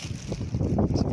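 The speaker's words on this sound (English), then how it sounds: "It's a pity it's so windy." Gusty wind at Mullardoch Dam buffets the microphone in low rumbling bursts, steady throughout with a few stronger swells.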